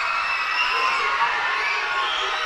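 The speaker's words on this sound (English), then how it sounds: "Crowd getting real loud here." A crowd at a minor-league baseball game between the Hartford Yard Goats and the Reading Fightin Phils keeps up a loud, steady roar and cheer, with a broadcaster talking over it.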